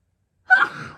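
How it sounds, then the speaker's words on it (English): A single short, sharp sneeze bursts out after a moment of silence, close and loud, then trails off quickly. "I just sneezed"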